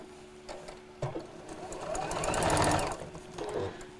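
A sewing machine stitches a Christmas apron around a curve in short runs, a fast mechanical whirring chatter that swells to a loud burst in the middle, close and clear.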